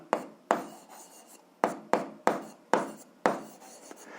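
A pen writes by hand on paper during work on an algebra equation, with seven or eight distinct scratching strokes, each a sharp onset that fades, close and moderately loud with no speech.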